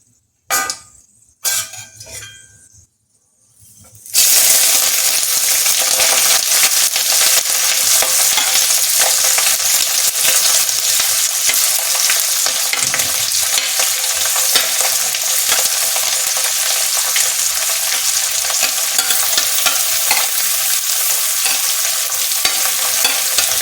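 Chopped onions hit hot oil in a pan for homemade chicken curry and break into a loud, steady sizzle with stirring scrapes, after a few seconds of quieter clinks.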